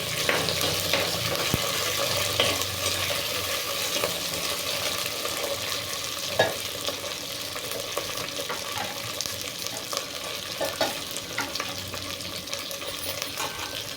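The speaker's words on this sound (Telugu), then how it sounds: "వెల్లుల్లిపాయలు, ఎండుమిర్చి వేగిన తర్వాత పచ్చిమిర్చి వేసుకోవాలి." Garlic, dried red chilies, green chilies and curry leaves frying in oil for a coconut tomato chutney, a loud, close, continuous sizzle with faint stirring scrapes throughout and no talk.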